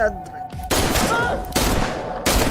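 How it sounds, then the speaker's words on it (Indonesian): Loud bursts of gunfire in a film shootout, a rapid volley that breaks off and resumes, over a tense background. "Joe pun membalas tembakan dari Mr. Beck dan membuat Mr. Beck tewas"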